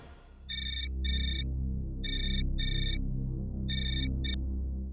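A telephone ringtone sounds in a ghostly drama scene: short, bright electronic ring bursts arrive in pairs, with a final clipped ring, over a steady low background drone. No one speaks.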